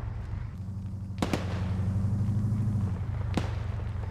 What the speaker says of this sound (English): I'm hearing shots west